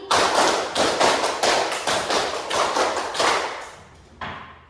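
A classroom of ninth-grade students claps in rhythm to a teacher's counted cues, with about a dozen sharp, close group claps falling in regular bursts before a brief pause and a final clap.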